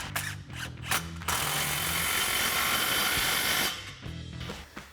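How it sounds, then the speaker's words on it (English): A ratchet with a 15mm socket tightens a tailpipe clamp on a Silverado 1500 dual exhaust. Quick bursts of close metallic clicking bracket a longer stretch of steadier rasping noise. "once again, 15mm socket to tighten it down."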